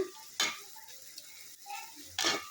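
Fish masala stir-fried in a pan for a carp curry, with two bursts of scraping and clattering from the spoon against the pan over a soft background sizzle, close by.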